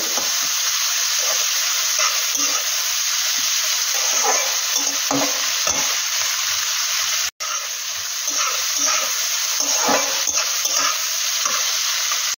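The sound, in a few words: onions frying and being stirred in a pan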